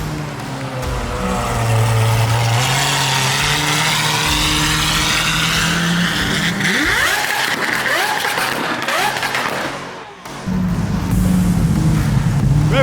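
Supercar engine revving loudly at Circuit of the Americas during a charity car event, with sustained roaring revs, a rising sweep partway through and a brief dip before the engine surges again, amid crowd shouts.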